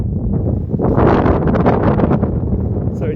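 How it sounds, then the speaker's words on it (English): Loud, steady wind buffets the microphone with a rough, gusty roar throughout in a residential neighborhood of Jerusalem, drowning out any other sound. "It is a bit windy today."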